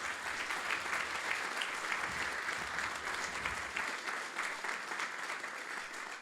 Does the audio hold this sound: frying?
no